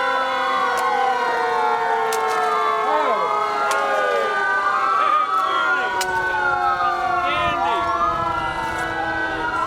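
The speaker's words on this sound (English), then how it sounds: "We have the area fire trucks" Several fire truck sirens wail together in a Christmas parade, overlapping rising and falling tones from the Wampum-area engines, loud and continuous throughout.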